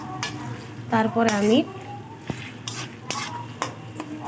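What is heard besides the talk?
tomato frying and being stirred in a pan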